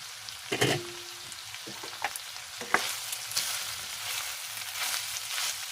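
Ground pork and chicharo peas being stirred in a sizzling pan, with soft frying crackle and a few distinct scraping knocks of the utensil against the pan.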